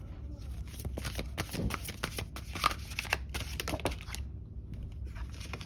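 Tarot cards are shuffled by hand in a steady run of crisp riffling and snapping bursts, close and fairly loud, with no talking.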